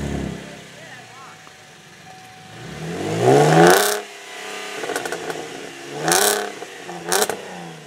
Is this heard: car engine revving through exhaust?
yes